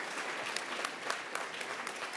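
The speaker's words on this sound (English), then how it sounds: "A round of applause." A post-debate commentary audience gives a short burst of steady applause, a dense wash of clapping from many hands with no talk over it.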